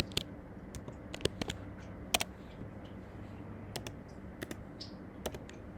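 Keys on a computer keyboard are tapped while data is entered into SPSS statistics software: sparse, irregular clicks, some sharper than others, in a quiet room with no talking.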